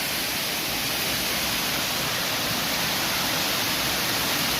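Water rushing steadily at a stream in Teenate, Cavite, a constant broadband wash that stays even and close throughout with no voices.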